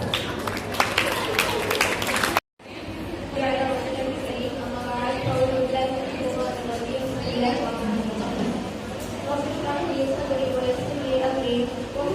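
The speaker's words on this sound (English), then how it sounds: "Welcome her with huge round of applause" Audience at a school Ramzan and iftar celebration applauds to welcome a speaker, with a brief burst of clapping, a sudden cut, and then a voice speaking over a quiet hall.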